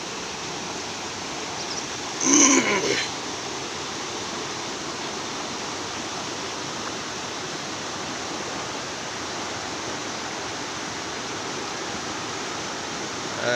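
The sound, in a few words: river water rushing from Robber's Cave waterfall, Dehradun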